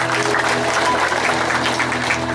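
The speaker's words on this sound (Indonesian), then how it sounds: "Tepuk tangan" An audience at a talk on family life breaks into steady, dense applause, many hands clapping continuously at moderate loudness with a low hum underneath.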